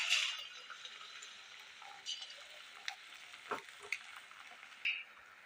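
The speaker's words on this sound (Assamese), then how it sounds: "এইদৰে মই গোটেই পিঠাখিনি ভাজি ৰেডি কৰিলোঁ" Leftover rice pitha fries in a pan with a quiet, steady sizzle and scattered small pops and crackles.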